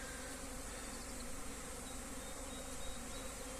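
Carpathian mountain honey bees fly around the hives of an outdoor apiary during orientation flights, making a steady, continuous buzzing hum close by with no voices.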